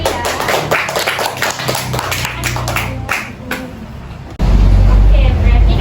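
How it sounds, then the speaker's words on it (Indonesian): A primary school class claps, with a burst of brisk, uneven applause in a classroom that fades out, followed by a sudden loud low rumble and a voice speaking. "Beri tepuk tangan dulu ya."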